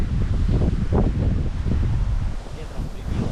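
Strong gusting wind buffets an outdoor hide during a wood pigeon hunt, roaring loudly against the microphone in continuous rumbling bursts.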